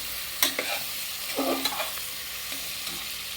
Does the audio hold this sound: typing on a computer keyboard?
no